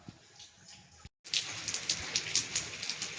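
Rain falling outdoors in stormy weather, a steady close hiss of drops with patters on surfaces, briefly cut to silence before resuming louder and denser.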